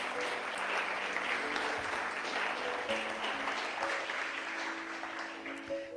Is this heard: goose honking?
no